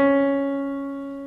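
Keyboard playing a semitone from middle C, a sustained clear keyboard tone ringing alone and gradually decaying.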